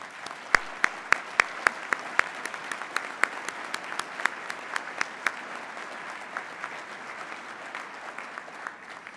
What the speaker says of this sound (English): You and Gary stand up so we can applaud you